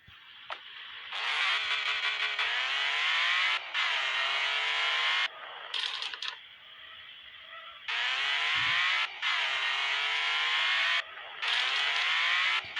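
A car engine driven in the video game Black Russia drones and revs in long loud bursts, with pitch sweeping up and down and short quiet gaps between them. No one speaks.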